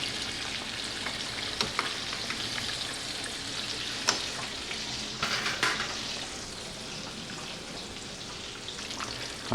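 A battered chile relleno fries in hot oil, giving a steady, dense sizzle with scattered sharp pops and crackles throughout, close and without talk.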